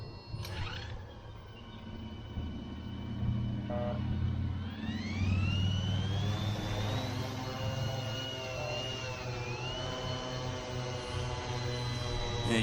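A large, heavily loaded multirotor drone spins up its motors and lifts off outdoors in wind, a loud steady whirring drone whose pitch climbs and wavers as it takes off, with a continuous rumble underneath and no talking.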